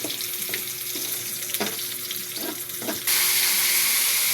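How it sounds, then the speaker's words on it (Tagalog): Ginger, garlic and onion sautéing in a pan, a loud continuous sizzle with repeated scraping stir strokes, then the frying hiss swells sharply louder for the final second; no talk. "ginisa ko muna guys yung luya, bawang, sibuyas"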